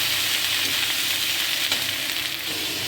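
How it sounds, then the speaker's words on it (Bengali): Garlic paste and ginger paste frying in a pan give a loud, dense, continuous sizzle, close and steady throughout with no voices. "রসুন বাটা এবং আদা বাটা ভাজা ভাজা হয়ে গেছে"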